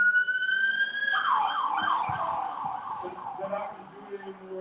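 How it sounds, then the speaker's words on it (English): An emergency siren wails suddenly, holding a high tone and then sweeping downward before fading beneath a voice talking over it. "siren out of nowhere."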